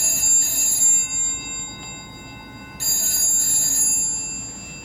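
An old telephone bell rings in a quiet house, two bright sustained bursts separated by a pause, loud and alone with no voices.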